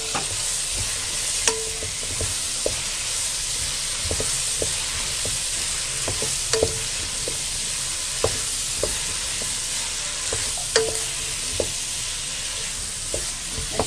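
Kachori vegetable filling with mashed potato being stirred in a pan, a continuous soft sizzle broken by frequent clicks and scrapes of a spoon, close and steady with no voices.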